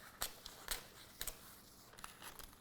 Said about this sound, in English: you can just take your scissors and just go in and